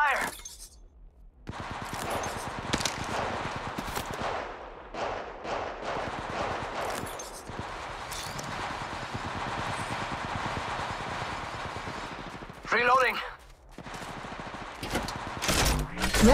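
Enemy gunfire in Apex Legends Mobile comes as sharp repeated bursts of shots mixed with game effects and music, with a player talking over the action.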